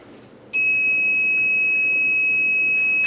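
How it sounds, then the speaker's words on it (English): A heat press timer alarm goes off abruptly after a moment of quiet room tone, a loud, piercing, continuous electronic tone that holds steady to the end. "that is our timer. You're not going to miss that."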